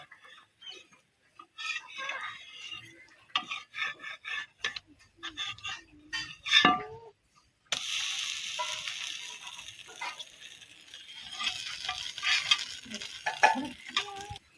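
Butterfly pea flower dosa frying on a hot pan as it is turned over, with soft sizzling and scraping clatter, then a louder steady sizzle after the flip, close by and alone without talk.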